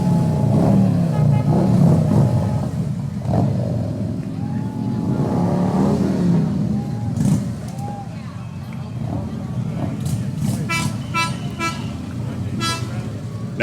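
Motorcycles ridden by members of the Knights of Columbus pass in a Memorial Day parade in Dearborn, engines revving and rumbling with horn toots, while a voice talks over a public address and crowd noise fills the background.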